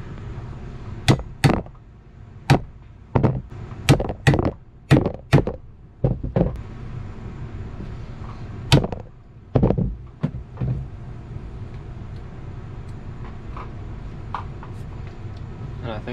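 Sharp whacks knocking the overhang off a glued-up display made of seashells from Puerto Rico: about a dozen loud, close, irregular strikes, several in quick pairs, followed by quieter background.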